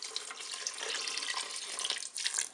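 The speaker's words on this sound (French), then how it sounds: "Je vais prendre de l'eau pour recouvrir mes ingrédients." Water running from a tap and poured into a Cookeo pot to cover rice, chicken and tomatoes, a continuous close splashing rush lasting a couple of seconds, heard alone.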